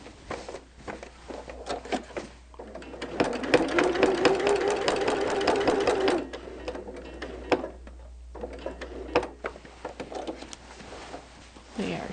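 A sewing machine stitches a quilt seam about an eighth of an inch from the edge during machine quilting, running in a fast, steady mechanical whir for a few seconds, with scattered clicks and handling noises before and after.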